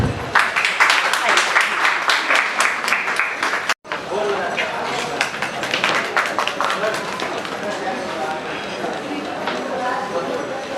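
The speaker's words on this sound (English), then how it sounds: "Friends, we can clap." An audience claps through a busy patter of applause at an Inner Wheel Club of Delhi Civil Lines event. The clapping is loud and close, breaks off sharply for a moment, then resumes with voices mixed in.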